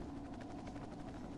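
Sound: helicopter in the video game Marc Ecko's Getting Up

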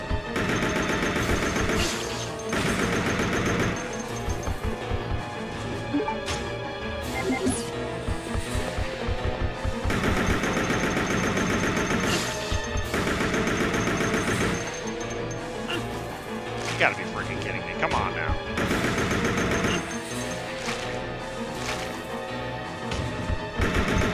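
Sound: gunfire from a video game, Resident Evil: Code Veronica X

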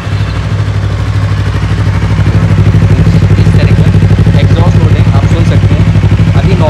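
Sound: Yamaha MT-03 motorcycle exhaust note, engine running

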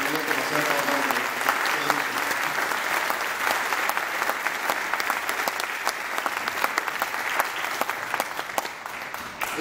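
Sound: audience applause after a music performance

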